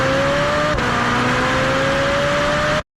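A Ferrari 458 engine screams loudly at full throttle with a brief shift, holding a sustained high-revving whine until it cuts off abruptly.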